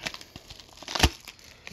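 Bubble mailer package being torn and crinkled open by hand, brief soft rustles building to one sharp ripping burst near the middle, close and fairly quiet.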